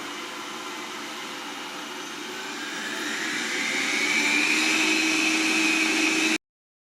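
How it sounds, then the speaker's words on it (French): A ROIDMI EVE Plus laser robot vacuum cleaner runs in a kitchen, its motor whine rising to maximum power into a louder, higher steady hum before cutting off abruptly. "c'est un robot aspirateur laser"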